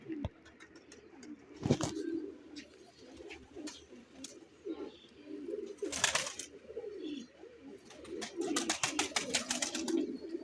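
A pigeon hen coos softly in a breeding loft, repeated low throaty calls with wingbeats and small rustles in between, close and fairly quiet, with no talking.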